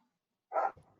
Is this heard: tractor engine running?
no